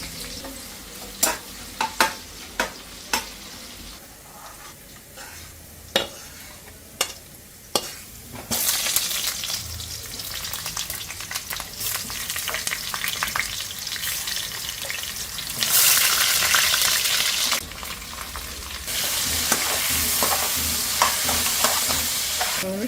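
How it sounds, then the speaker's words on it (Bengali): Onions fry in ghee in a pan, first with a few sharp utensil taps, then a steady close sizzle that rises and swells in bursts as they are stirred, with no voices. "এবার একটু ঘি দিয়ে দিলাম, আলুগুলো ভাজবো, তার আগে আমি একটু পেঁয়াজ বেরেস্তা করে নেবো।"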